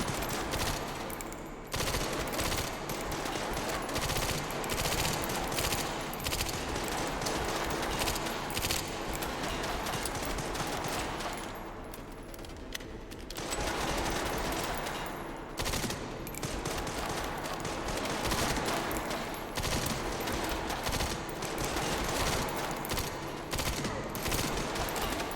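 Sustained automatic gunfire fills a tense stretch of the Resident Evil Requiem video game, dense rapid bursts rattling almost continuously for about 25 seconds with one brief lull midway, loud and with no voices.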